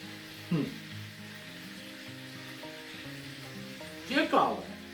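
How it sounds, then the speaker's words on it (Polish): Minced-meat cutlets frying in a pan give a soft, steady sizzle with a few brief louder crackles and stirring sounds, with no voices. "Pięknie skwierczą jeszcze ostatnie kokociki"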